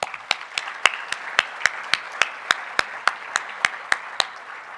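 Audience applause at a port industry event in Long Beach, a thin round of clapping with a few loud nearby hands beating out a regular, distinct rhythm over a softer background patter.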